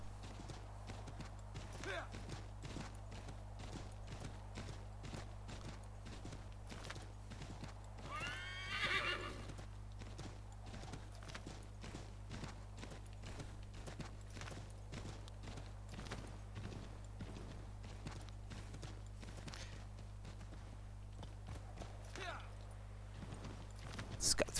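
Hoofbeats of a horse in the video game Assassin's Creed III (Wii U), a steady quick clip-clop rhythm with an occasional whinny, moderately quiet and continuous, while a person talks over it at times.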